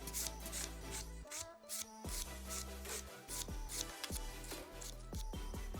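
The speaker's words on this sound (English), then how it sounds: "Now I did my 5 steps in filing" Close, brisk rubbing strokes of a nail file shaping a long almond acrylic nail, repeating in quick back-and-forth bursts with short pauses, quiet and without talk.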